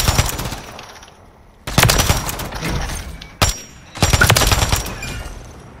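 A sentry turret firing in Call of Duty MW3, three loud sustained bursts of rapid automatic gunfire separated by brief lulls.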